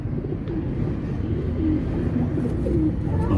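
Soft, low pigeon coos murmur close by over a dull background rumble.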